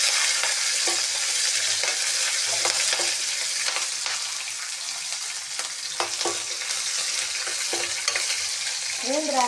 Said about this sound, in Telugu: ఇలా వేగేటప్పుడు 2 పచ్చిమిర్చి వేసుకోవాలండి.